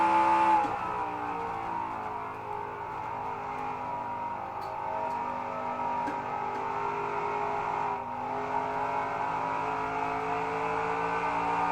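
Race cars in a stock car racing video game at Nashville Superspeedway: steady layered engine drone with multiple overlapping harmonic tones throughout, fairly constant in loudness with a brief dip, no voices heard.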